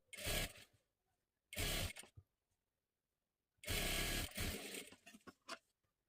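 A sewing machine stitches along a folded net-fabric sleeve of a small girl's blouse, running in three separate bursts of whirring, the last broken into short stop-start runs with quiet pauses between.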